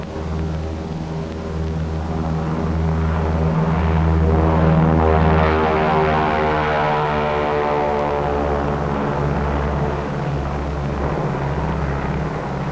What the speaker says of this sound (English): the loading ramp is the B-29 Dave's Dream, bomb-carrying aircraft